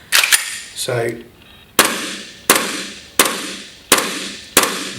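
An Umarex VP9 gas blowback pistol fires five sharp, evenly spaced shots indoors, each a crisp crack with a short decay, after a brief spoken word and some handling noise.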